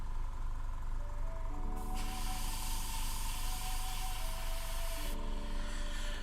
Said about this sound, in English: I'll end up spraying the entirety of the inside of the model.